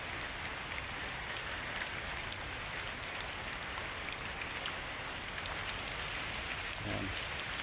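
Continuous steady rain falling in Mascap, an even, hissing wash of drops on surfaces with no pauses, fairly faint and without any voices.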